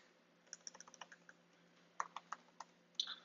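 A command is typed on a computer keyboard while installing a tool on a server, with quick crisp key taps in short bursts, a brief pause, then more taps ending in a firmer keystroke, near and alone.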